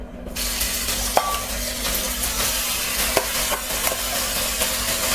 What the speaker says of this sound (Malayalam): അതിലോട്ട് നമുക്ക് ഈ നമ്മളുടെ വേവിച്ച് വെച്ചിരിക്കുന്ന ഗോതമ്പ് അങ്ങ് ഇട്ട് കൊടുക്കാം